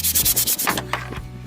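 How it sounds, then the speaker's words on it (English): Sandpaper rubs over wood in quick rhythmic strokes, about six even passes and then a few slower, softer scrapes, close and clear. "I'm going to get it nice and smooth with the sandpaper"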